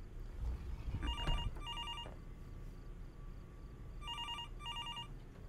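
Repeated trilling bursts from a landline telephone in Fears To Fathom: Norwood Hitchhike, two quick pairs of rings separated by a gap, heard clearly over a dull room hum and a few thumps, with no voices.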